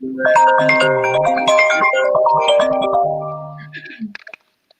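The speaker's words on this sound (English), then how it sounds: "Who phone ringing in the background?" A loud melodic phone ringtone plays in a smokers' lounge, a run of bright chiming tones that fades out near the end.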